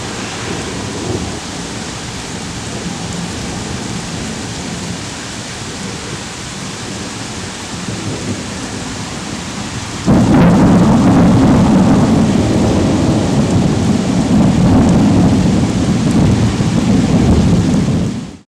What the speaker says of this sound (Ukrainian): грім чути набагато пізніше, ніж видно спалах блискавки